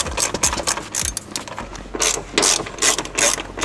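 A ratchet wrench loosens 12 mm and 14 mm rear seat and seat belt bolts inside a Lexus IS300, loud close bursts of rapid pawl clicking in repeated strokes.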